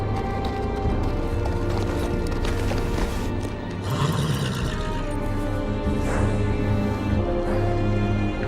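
Horse hooves clip-clop steadily in a Game of Thrones video game scene set at Castle Black, a continuous rhythmic clatter with faint mechanical and ambient noise around it.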